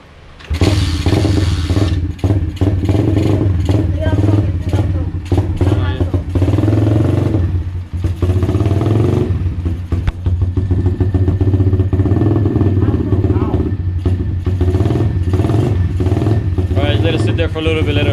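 Apollo dirt bike engine running loud and steady right after being kick-started, idling roughly with a continuous low rumble and uneven revs, with people talking over it.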